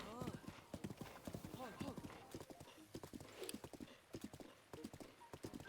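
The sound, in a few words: horse galloping hooves in Zelda Breath of the Wild video game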